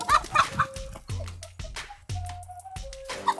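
Chickens cluck in a countryside yard in Guangzhou, China: several short, close clucks and squawks in quick succession, with scuffling and a little background noise between them.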